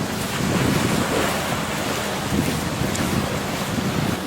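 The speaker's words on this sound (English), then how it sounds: "Look at the waves coming in." Ocean waves rolling onto the beach at Sandy Hook, New Jersey, a loud continuous rushing surf wash mixed with wind buffeting the microphone, no talking.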